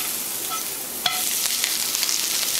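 Hash browns frying in butter and oil in a hot pan, a steady, close bright sizzle throughout with a faint scrape or tap partway through.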